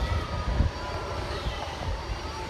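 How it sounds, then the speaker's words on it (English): A police helicopter drones overhead during a street rally in Cleveland, Ohio, a low continuous rumble with faint wind and distant city noise underneath. "Police helicopters, check."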